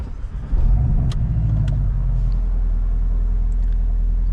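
A 2023 Porsche 718 Boxster base model with a turbocharged inline-four drives on Angeles Crest Highway in California, its engine a steady, loud low rumble that swells as it gets going and then holds, with no talking.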